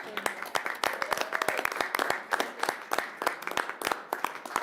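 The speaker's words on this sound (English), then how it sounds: "Let's give him a city hall applause, shall we?" Scattered applause from a modest crowd at an Aspen city council joint meeting with county commissioners, honoring a departing staff member: uneven, individual claps close by, steady for several seconds, with no talk over them.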